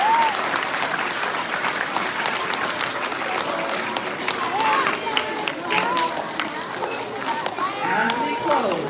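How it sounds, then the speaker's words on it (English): Elementary school audience applauds veterans at a Veterans Day program, sustained loud clapping throughout with scattered voices and cheers mixed in. "Let's give one more round of applause for our"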